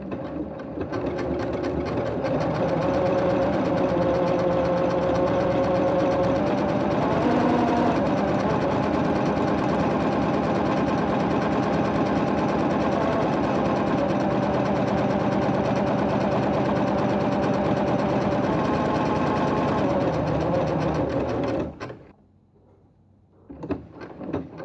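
A sewing machine runs steadily, stitching a satin stitch with a twin needle, its loud even motor hum and rapid needle chatter continuing for about twenty seconds before stopping abruptly, followed by a few faint handling sounds.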